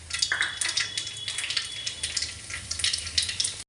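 Nigella seeds, black cumin, sizzle and crackle in hot oil in a wok, a loud, continuous frying hiss broken by sharp little pops.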